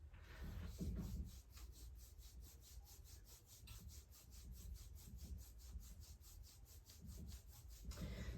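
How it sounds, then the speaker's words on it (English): A hand rubs quickly back and forth over the neck in a friction massage, making a fast, regular swishing rasp of skin and fabric, close but faint, with no talking. "we're going to be doing a rubbing motion back and forth really fast"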